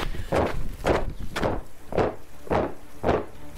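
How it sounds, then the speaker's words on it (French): Heavy, thudding footsteps of a farmer's boots at a steady walking pace, six clear steps, close by with nothing else around. "Le bruit des bottes d'un paysan"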